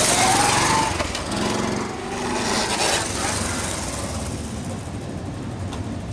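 A Honda Super Cub MD90 motorcycle rides along on an autumn afternoon, its small engine droning steadily and fairly loud close by, with wind rush throughout and no talking.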